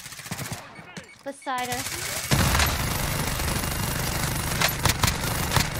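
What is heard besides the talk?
gunfire in a video game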